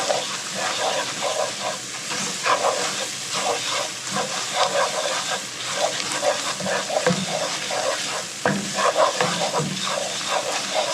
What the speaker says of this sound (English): stirring our flour around